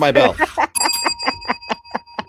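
A bright bell rings repeatedly in quick, ringing strikes, close by, after a voice speaks briefly at the start.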